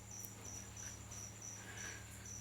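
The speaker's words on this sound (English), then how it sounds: "try to ignore that cricket" A cricket chirps indoors in a steady, evenly spaced series of short, high trills, clear against a quiet room hum, with no talking.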